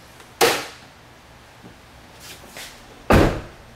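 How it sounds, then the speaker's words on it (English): Two sharp plastic snaps as a truck's interior door trim piece is clipped back into place, one early and one near the end, with a few softer taps between. "Take our interior piece, clip it back on"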